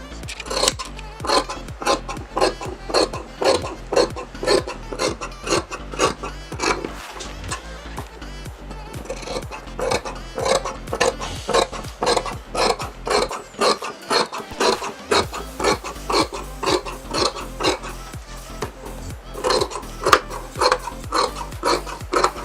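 Scissors cutting through trouser fabric, a close, steady series of rhythmic crisp snips and rasping slides repeating about once a second, with a brief pause midway and no speech.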